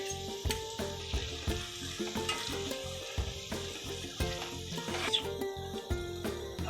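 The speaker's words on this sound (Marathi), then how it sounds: "कांदा आणि मिरची शिजवून घेतल्यानंतर आपल्याला ह्या मिरचीची पेस्ट टाकायची आहे" Chili paste is fried with onion and chili in a pan for crispy soyabean chilli, a faint sizzle under a rhythmic ticking and clinking of stirring, steady and close.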